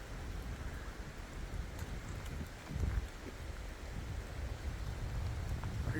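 Wind blows steadily through the woods as a soft, continuous broadband rush, fairly faint and distant, with a slight swell near the middle and no voices.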